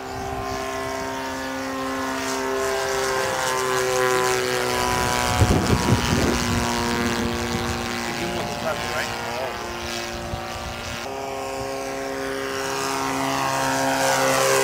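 A Cessna 150 light airplane's propeller engine runs steadily with a constant droning tone and a brief rise in roughness midway, loud and close outdoors.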